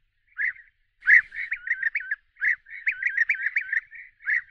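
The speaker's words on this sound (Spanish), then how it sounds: "Se trata del policromático Merops apiaster, más conocido como abejaruco común." European bee-eater (Merops apiaster), a colourful bird of dry ravines living in groups, gives clear rolling trilled calls in a quick, repeated series, close and alone against a silent background.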